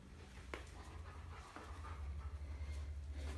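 Panting from an Airedale lying near a Kerry Blue terrier puppy, a soft steady breathy rhythm heard close by over low background hum, with one or two faint whimpers.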